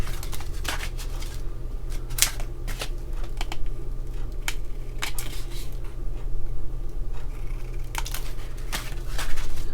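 Scissors snip through a paper tag for a handmade mini album, a series of sharp close clicks and cuts, irregular and spaced out over a low steady hum.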